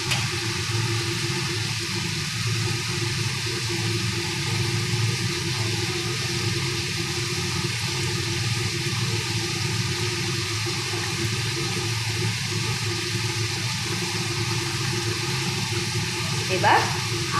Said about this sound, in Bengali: ঝোলটা আমার সুন্দর টকবক করে ফুটে উঠেছে